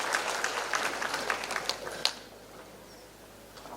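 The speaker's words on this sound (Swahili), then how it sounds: "Tumkaribishe Michael Wachira kwa makofi apate motisha" Scattered applause from a gathered audience welcoming a guest, Michael Wachira, at a public meeting: light patter of claps that thins out and dies away after about two seconds, leaving quiet room tone.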